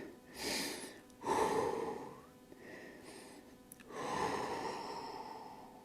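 Deep breathing during hockey training stretches: several slow, close breaths, each a soft airy inhale or exhale swelling and fading, with pauses between and no talking.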